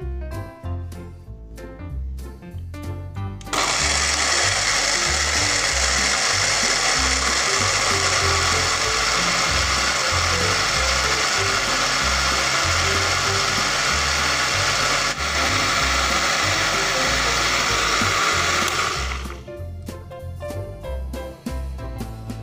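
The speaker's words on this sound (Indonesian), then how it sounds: "Kita blender ya pemirsa sampai halus" An electric blender whirs loudly for about fifteen seconds grinding garlic, a steady high-pitched grinding drone that starts abruptly and stops, with quieter clatter before and after.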